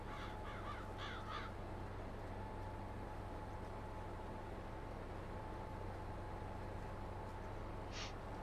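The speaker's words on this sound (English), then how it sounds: "Crows flying around." Crows caw in a Farming Simulator farm scene, a quick run of several harsh calls near the start and one more caw near the end, all over a steady low engine-like drone.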